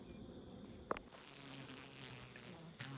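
A few honeybees hum softly around frames in a hive, a low continuous drone broken by a couple of brief clicks and knocks.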